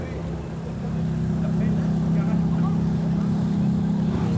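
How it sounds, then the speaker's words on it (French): Ferrari engine running nearby as the car pulls away or tries to park, a steady low rumbling drone that swells after the first second and holds, with no talk heard. "On a une Ferrari qui s'en va ou qui essaye de se garer"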